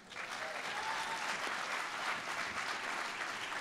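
Audience applause for journalist Jim Acosta at a William Randolph Hearst award ceremony, a steady, even wash of clapping throughout, somewhat distant and moderately quiet.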